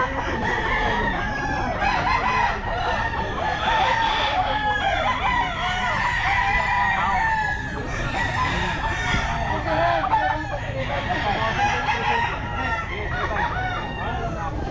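Sweater gamefowl stags crow repeatedly at a crowded pet market, several roosters calling over one another at close range amid constant clucking and a dense, unbroken wall of bird noise.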